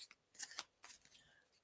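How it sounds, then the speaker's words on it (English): Flower cards being shuffled by hand during a spiritualist reading, giving a few quick papery riffles and slaps in short bursts, close and fairly quiet. "Roylene, let me shuffle for you."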